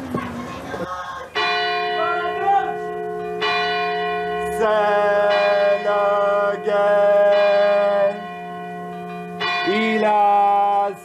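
A church bell rings out in long, loud, resonant strokes, each one sustaining before the next, as the hour of twelve is struck, with a voice heard briefly at the start.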